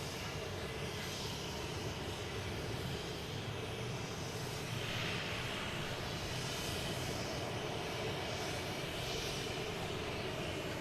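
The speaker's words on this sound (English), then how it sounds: "Here's a Delta coming in from Newark," A Delta Embraer E-175 airliner arriving from Newark at Boston Logan gives a steady, distant broadband jet roar that holds evenly for the whole stretch, with no talking.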